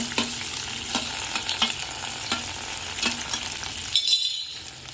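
Onion and tomato sauté in a pan for a matar paneer gravy. A steady sizzle runs under regular stirring scrapes and knocks about once a second, close up, and the frying briefly quietens near the end.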